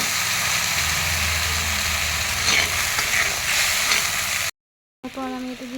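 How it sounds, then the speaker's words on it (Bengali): Spice paste hits hot oil that already holds whole dried chillies, cinnamon sticks and a bay leaf for a paneer dish, giving a loud, steady sizzle with stirring. It cuts off briefly, then a voice-like tonal sound enters at the end. "তারপর আমি সেই তেলে দিয়ে দিলাম এই যে মশলা করা মশলাটাকে"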